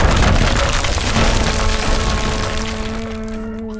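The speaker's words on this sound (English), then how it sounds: "It sounds like the big block on Castle Rock in the Lake District has finally broken off the crag, crashing to the scree slope below." A large rock block breaking off Castle Rock crag in the Lake District and crashing onto the scree slope below, a loud sustained rumbling roar with cracking debris that slowly fades.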